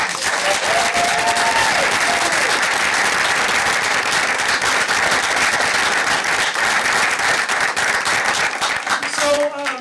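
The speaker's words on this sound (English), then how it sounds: "Let's give them a round of applause." A room full of people at a school board meeting applauds the honored team. The clapping is loud and dense and runs steadily without a break, and a few voices rise briefly above it near the start and again at the end.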